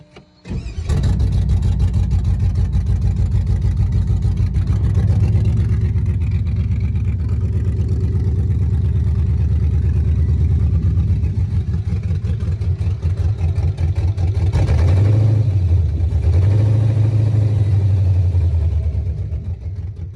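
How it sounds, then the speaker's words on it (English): A 1967 Buick Skylark with a swapped LS V8 cranks, catches and idles roughly with an uneven miss, loud and close, then revs up twice in quick blips near the end before settling back. "So now I'm going to start it up, and it's probably still going to sound like shit."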